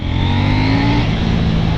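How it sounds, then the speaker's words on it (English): A stock-exhausted KTM 790 Duke motorcycle engine revs loud and close, its steady roar dropping slightly in pitch as the rider rolls the throttle on open country back roads. "for a stock exhaust that looks like a hideous monstrosity, it actually sounds pretty fucking good"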